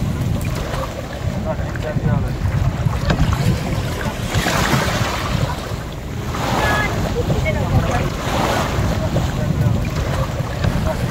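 A boat at sea off an uninhabited Lakshadweep island, with a constant wash of waves and heavy wind buffeting the microphone. Faint voices sit under the rumble.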